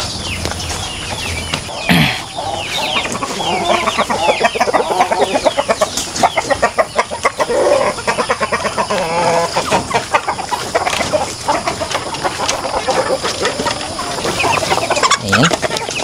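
Pet chickens and young chicks clucking busily at feeding time, close and continuous, with overlapping calls and occasional bursts of wing flapping.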